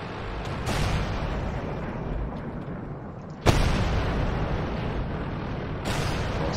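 Tank cannon fire and explosions in World of Tanks: a sustained rumbling battle roar with a sharp loud boom at mid-clip, with further blasts early and near the end.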